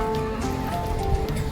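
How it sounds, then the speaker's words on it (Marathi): Rain falling at a temple, a steady diffuse patter heard close with a low rumble underneath and no talk. "शायद आज पाऊस चालू आहे"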